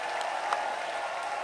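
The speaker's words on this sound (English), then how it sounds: "Round of applause for Caption." Audience applause for a legal-tech startup pitch, a steady wash of clapping at moderate volume across the short moment with no clear voices.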